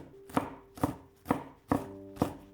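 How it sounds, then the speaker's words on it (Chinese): Knife chopping half a green pepper into small dice on a board, five evenly spaced crisp chops close by, with no talking. "再准备半个青椒，先切成细丝，再改刀切成青椒丁。"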